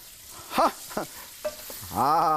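Two spatulas stir-fry food in a hot wok over a steady sizzle, with several sharp metallic scrapes and a long ringing scrape at the end.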